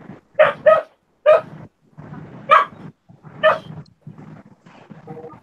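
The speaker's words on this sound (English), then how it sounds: "Whose dog is barking?" A dog barks loudly and close by in a series of sharp, separated barks with brief pauses between them, with no talk over it.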